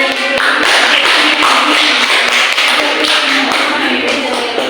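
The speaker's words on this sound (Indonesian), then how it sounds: "Kita beri tepuk tangan dong teman yang Pak Dewa." Classroom applause for a classmate during a micro-teaching lesson, loud dense clapping from many hands sustained at full level throughout.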